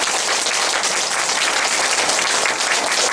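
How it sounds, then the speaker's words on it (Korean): Audience at a meeting with North Korean defectors applauding steadily, dense continuous clapping from many hands filling the room with no voices over it. "박수로 응원해 주시기 바랍니다."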